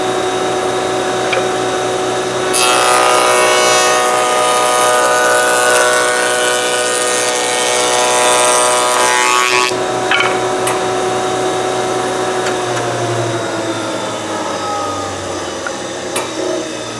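Wood shaper with a fence set close, running a cope-and-stick test cut on a wooden test piece for a clock door: a loud, steady, whining cut of about seven seconds over the running motor, which then winds down.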